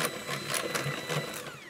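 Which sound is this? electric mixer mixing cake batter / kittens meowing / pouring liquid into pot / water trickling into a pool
electric mixer mixing cake batter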